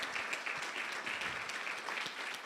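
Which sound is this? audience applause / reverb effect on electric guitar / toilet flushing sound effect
audience applause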